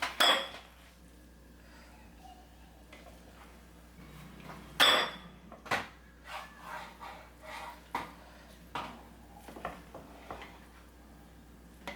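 Cooked rice for chicken majboos is served from a pot with utensils, giving sharp metallic clinks and a series of softer scraping knocks spread across the clip, close and fairly quiet.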